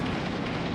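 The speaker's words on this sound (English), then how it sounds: "Frag out." Frag grenade blast in the combat game Six Days in Fallujah, heard as a dense, loud roar of broadband noise filling the whole short moment.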